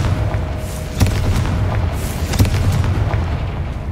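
Spell blasts from a Confringo cast in Hogwarts Legacy pop as short booming bursts, two distinct hits about a second and a half apart over a steady low rumble of game ambience.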